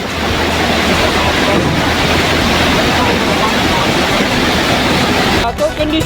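The flooded Muaru Pisang river in Maninjau rushes past carrying mud, wood and rocks, a loud, steady roar of churning water with wind buffeting the microphone throughout.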